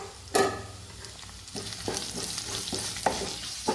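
Long-sliced onions frying in hot oil for a chicken stew give a steady sizzle, broken by a spoon stirring and scraping the pan in several distinct strokes, close and clear.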